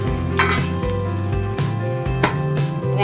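Cumin seeds crackle and sizzle in hot oil for a tempering, a close, steady fry with a few sharp spatters and light stirring clinks.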